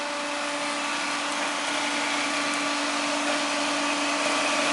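Elliott 921 hydraulic surface grinder with an 8 by 20 inch permanent-magnet Elliott Walker chuck, running with a steady, loud mechanical whir and hum that stays even throughout.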